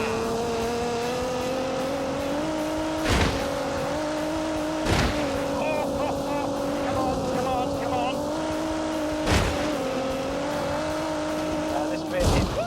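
A race car engine holds a steady droning tone with slight pitch shifts in The Grand Tour game, broken by several sharp impacts and brief tire chirps, with a voice talking over it.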